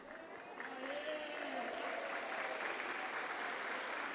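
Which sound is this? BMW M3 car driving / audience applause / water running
audience applause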